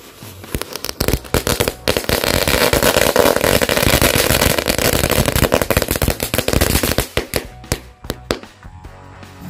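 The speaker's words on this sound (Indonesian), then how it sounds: "Yang selanjutnya ini mercon telur dino pretek." A dino egg firecracker, a crackling "pretek" type, goes off in rapid dense crackling pops for several seconds, loud and close, then thins to scattered snaps.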